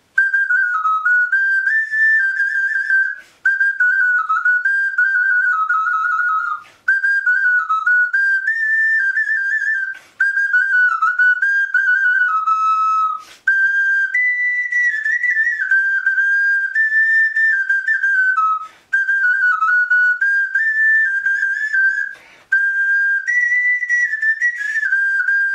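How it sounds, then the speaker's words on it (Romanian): Traditional clay folk whistle from Moldova played alone and loud, a bright piping melody in repeated phrases separated by short breath pauses. "Iată, de exemplu, un fluieraj de acesta"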